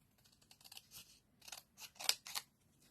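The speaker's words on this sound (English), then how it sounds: "we can cut the rest of the border out around here" Scissors cut card to trim a border, a series of quiet, close crisp snips in irregular bursts with pauses between them.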